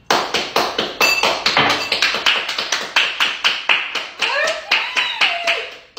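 Hands clap repeatedly at close range in a steady run of sharp, loud claps, with a brief voice rising near the end.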